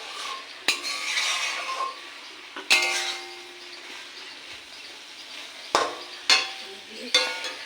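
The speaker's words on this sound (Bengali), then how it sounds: "রান্না হচ্ছে ছোলা কচু মাছের মাথা দিয়ে ছোলা কচু হচ্ছে" Chola kochu curry with fish head, tomato, potato and onion frying and being stirred in a pan, a steady sizzle broken by several sharp metallic clangs and scrapes of a utensil against the pot.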